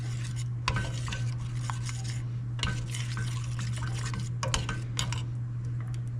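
A spoon stirs a venison Hunan sauce cooking in a pan, giving repeated scraping and clinking strokes over a steady low sizzle and hum, close and without talk.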